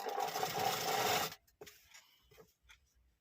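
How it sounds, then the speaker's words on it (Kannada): A sewing machine runs a quick burst of stitching along blouse piping, a loud whirring rattle lasting about a second, then stops, followed by faint soft clicks and handling noises. "ಈ ರೀತಿ ನೀಟಾಗಿ ನೀಟಾಗಿ ಸ್ಟಿಚ್ ಮಾಡ್ಕೋಬೇಕು"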